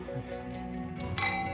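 Glasses clink together in a toast, a single bright ring at the end following a short stretch of quiet room murmur.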